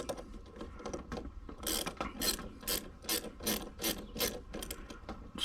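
Ratchet wrench loosening a 10mm battery terminal nut on a Toyota 4Runner, a fast series of close, crisp clicks in uneven bursts with no talking.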